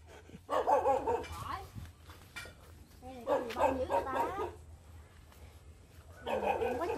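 A dog at a family home in a Lai Vung pink mandarin orchard in Dong Thap barks in three separate bursts of short, yappy calls, with people talking loosely in between.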